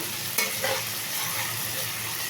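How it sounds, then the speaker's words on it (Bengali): Onions and tomatoes fry in a pan with a steady sizzle, while a spatula stirs them and scrapes briefly a couple of times early on; the sound stays close and continuous with no voices. "এবার টমেটো সহ পেঁয়াজটাকে আর কয়েক সেকেন্ড ভাজলাম"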